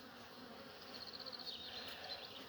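Honeybees buzz around their hives in the early morning of a honey harvest, a faint, steady, droning hum with slight wavering swells and no voices.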